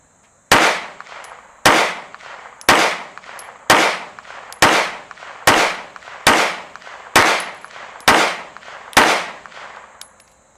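Ten ArmsCor rounds fired at a target from a Strike Industries Mass Driver, sharp loud shots evenly spaced about a second apart, each with a short decaying echo.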